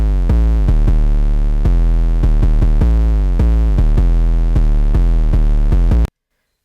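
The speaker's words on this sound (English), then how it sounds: "I change up the 808. Still the same 808," A different 808 bass pattern in FL Studio, same 808 sound in a busier four-bar rhythm: heavy booming bass notes with several pitch slides, loud and alone until an abrupt stop.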